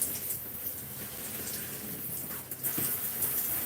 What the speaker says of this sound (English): We are rinsing out conditioner.